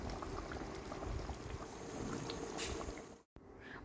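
Potato and pointed gourd curry simmering uncovered in a pot, with a steady low bubbling and soft hiss, faint and continuous, ending in a brief cutoff.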